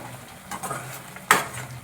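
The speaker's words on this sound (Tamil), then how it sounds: "இப்படி கிளறி விட்டுக்கலாம்." Pepper chicken gravy is stirred in a pan, with soft scraping and faint sizzle followed by one sharp metallic clink of the spoon against the pan, close and fairly quiet.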